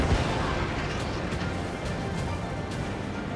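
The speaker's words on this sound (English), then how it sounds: "missile launched." Missile launches and blasts in the air-combat game Ace Combat 7, a dense continuous roar of jet and weapon noise with several faint, brief bursts layered through, steady and loud throughout without a clear single impact.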